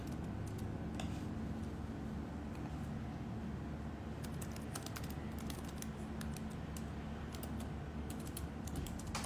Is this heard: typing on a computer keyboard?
yes